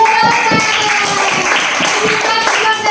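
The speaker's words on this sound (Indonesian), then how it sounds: "Iya, tepuk tangan." A classroom of students claps together in a rhythmic pattern during an inquiry-based lesson, close and loud, with young voices chanting along over the beats.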